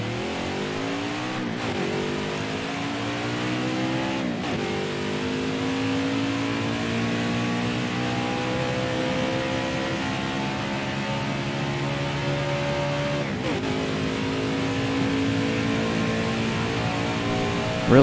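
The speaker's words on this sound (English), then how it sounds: "Really love those engine sounds." NASCAR Cup Series race car engines roar continuously in NASCAR Heat 4 during a qualifying run at Las Vegas, a loud, sustained, close engine note with pitch climbing through each gear and dropping at the shifts.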